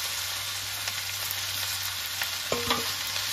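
Chopped ash gourd and green chili go into a pan of frying mung dal, giving a constant hissing sizzle with a brief clatter of stirring near the end; no talking.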